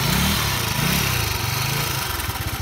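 Small IRBIS Z50R scooter engine idling just after starting, a loud, steady, buzzy putter with a slightly uneven pulse close by, running alone without voices.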